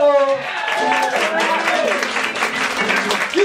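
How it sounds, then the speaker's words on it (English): An open mic audience breaks into applause and cheering, a dense wash of clapping that starts right after a voice and holds steady throughout at close range. "Ladies and gentlemen, a big round of applause."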